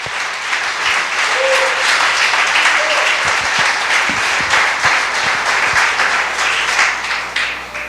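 A church audience applauding steadily during a sermon, dense clapping that holds at full strength throughout, with a faint voice briefly audible beneath it.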